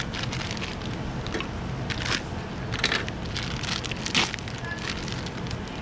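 The packaging is torn off a new inner wheel bearing for a 1980–1996 Ford F-150, F-250 or Bronco, making steady crinkling and crunching with a few louder rustling bursts close by.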